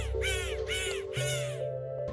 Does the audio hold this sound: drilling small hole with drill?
no